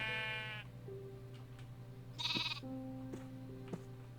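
Sheep bleating in the Minecraft video game, with a long bleat at the start and another bright bleat midway, over steady game music with a constant low hum.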